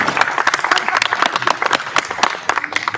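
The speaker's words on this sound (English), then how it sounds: "we should give a round of applause for Brian" A workshop audience bursts into lively, close applause for Brian, with dense clapping sustained across the whole three seconds and a few voices mixed in.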